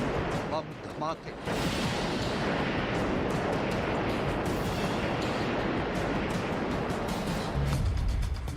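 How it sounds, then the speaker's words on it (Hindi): Bomb explosions and artillery fire in wartime Ukraine, a continuous heavy rumble of blasts with crackling bursts, loud throughout, preceded by brief speech at the start. "बम धमाके,"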